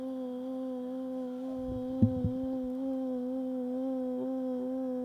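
Sustained lip-trill vocal exercise with a gentle vibrato, a steady buzzing hum held for about five seconds with slight pitch waves, close and moderately loud, with no talking.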